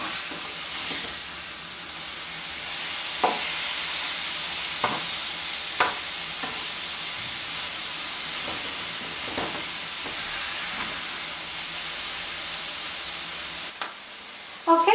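Chicken pieces for fajitas sizzle steadily in a pan over medium-high heat, a continuous frying hiss broken by several sharp clacks of turning and stirring, with a louder handling clatter at the very end; no one speaks.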